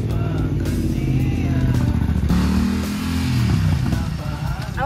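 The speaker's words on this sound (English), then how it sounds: "I like taking a motorcycle because it's fast-paced." A motorcycle engine drones steadily with low rumbling harmonics and shifting pitch as it rides, loud and close throughout, with some background noise.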